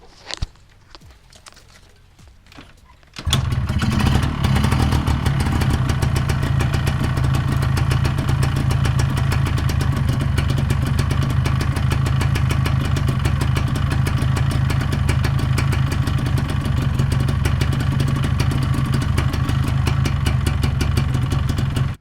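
A few seconds of quiet handling, then a two-stroke 125ZR motorcycle engine fires up and settles into a loud, steady, rattling idle that runs on without pause.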